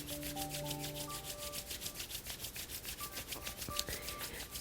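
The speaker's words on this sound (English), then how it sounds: "take your hands together and rub your hands together and create a little" Two hands rub briskly together during a yoga session, a steady, continuous dry friction with no pauses, close and fairly loud, over faint sustained tones.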